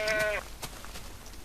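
A single short, nasal goat bleat from Minecraft sounds at the start, then fades into faint background rustling and soft clicks.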